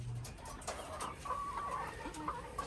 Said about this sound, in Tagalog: Ayan yung mga manok na decaled white kung tawagin.